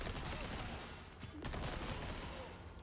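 Rapid TMP submachine gun fire in the Resident Evil 4 Remake Chainsaw Demo, a dense, loud, continuous burst of game gunfire lasting the whole stretch.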